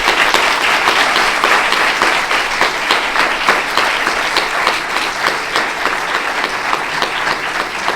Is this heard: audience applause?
yes